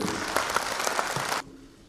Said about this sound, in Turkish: Bu gurur tablosuna gönülden bir alkış rica ediyoruz